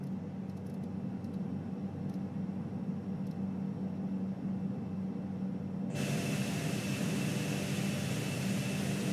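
Steady airplane engine drone in Microsoft Flight Simulator 2020 on approach to Lukla, a continuous loud hum and whine that brightens and grows louder partway through, with no talk.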